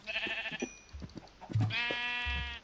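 Minecraft sheep bleat twice, wavering nasal calls, with soft clicks and thumps between them; close and fairly clear, no talking.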